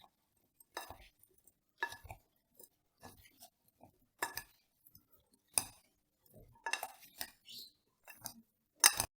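A spoon clinks and taps against a bowl as fruit chaat is tossed with lemon juice: sparse, irregular, close-up knocks with short quiet gaps between them.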